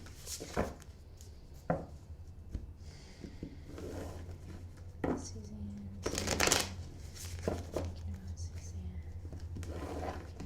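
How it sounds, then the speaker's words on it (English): Cards are shuffled in short riffling bursts and soft slaps, close and quiet, with faint breathy whispering in between. "I'm going to go ahead and just have a few moments while I'm shuffling"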